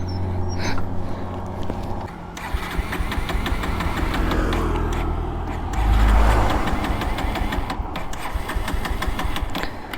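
A Bajaj Pulsar 150 double-disc motorcycle that has run out of fuel, with a close, loud engine churning and sputtering as it fails to start, rising in a rough surge midway, while a dog barks.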